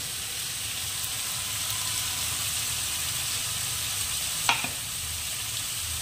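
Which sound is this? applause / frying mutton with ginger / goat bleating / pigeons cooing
frying mutton with ginger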